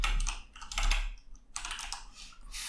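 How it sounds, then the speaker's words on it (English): Steady typing on a computer keyboard while entering code, a quiet run of close, rapid clicks with a short lull near the middle. "I'm going to type in this dot"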